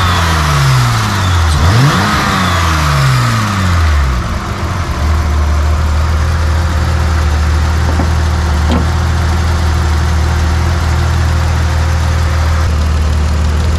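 A BMW E30 car engine turns over, revs up, then settles into a steady idle, loud and close with no talking.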